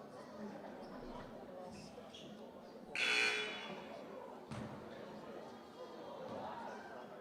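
Loud electronic buzzer sounds once at a sports tournament, a short harsh tone rising over crowd noise and cheering, with people talking around it.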